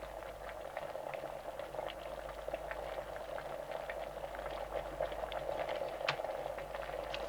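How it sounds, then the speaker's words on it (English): A kettle at a rolling boil makes a steady, hissing bubbling roar. It is constant and moderately loud throughout, with small pops and crackles and no voices. "hold it over a steaming kettle"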